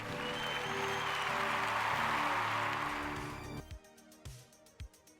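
A dense round of applause swells and holds for about three seconds, then breaks off abruptly into a few scattered, separate claps.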